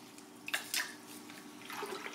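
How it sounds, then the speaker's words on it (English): Water splashes and trickles into a wool fibre dye bath, with a couple of brief pours followed by softer bubbling liquid sounds, close up and fairly quiet. "putting in the water"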